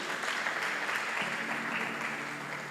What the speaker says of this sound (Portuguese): aplauda a presença de Jesus, irmão. Aplauda a presença dele.